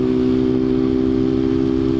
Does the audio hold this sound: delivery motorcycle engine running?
yes